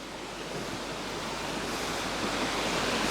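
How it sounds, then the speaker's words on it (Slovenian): A small mountain river rushes in a steady, dense broadband wash, close and continuous with no breaks, with no voices over it. "Gorska reka, mala simpatična rekica"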